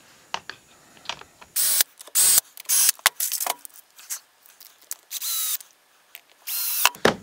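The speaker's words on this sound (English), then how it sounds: "and then I'll drive in the rest of the screws." A drill drives small screws into a wooden drill press table for a Porter-Cable floor-stand drill press, with a string of short, loud whirring bursts separated by brief pauses and no one talking.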